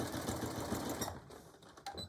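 A sewing machine back-stitching a seam on a beach or diaper bag, running steadily and close, then slowing into a few clicks and short stops.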